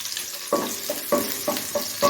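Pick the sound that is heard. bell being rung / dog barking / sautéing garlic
sautéing garlic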